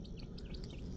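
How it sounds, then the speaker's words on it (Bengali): A single bird calls repeatedly outdoors in the Baruipur countryside, with short, high, fairly clear notes in quick succession over a low, rumbling background. "একটা পাখি ডাকছে, পাখির ডাক শোনা যাচ্ছে নিশ্চয়ই।"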